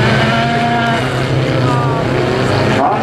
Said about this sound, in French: Ah, il y a un moteur qui tourne pas rond.